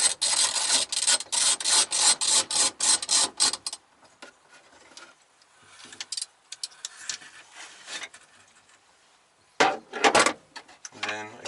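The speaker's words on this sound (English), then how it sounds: "give it a little pry in a corner. Just enough to break it loose." A screwdriver pries old, brittle plastic headliner trim loose inside an MK2 GTI. A fast run of rasping, creaking scrapes is followed by scattered quieter scratches and another short burst of grinding plastic near the end.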